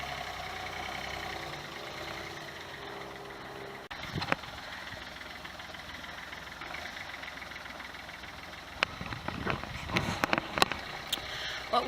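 A vehicle engine idles low and steady while a trailer is moved into a front yard, a faint rumble joined later by a few knocks and clatters.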